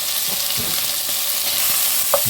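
Onions sizzle while being sautéed in a pan for a veal blanquette, a loud, steady frying hiss close by with a few soft stirring clicks.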